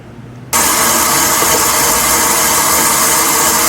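A stand mixer fitted with a whisk attachment beats eggs in a mixing bowl for French buttercream, starting abruptly into a loud, steady whirring drone that holds evenly throughout, close and alone.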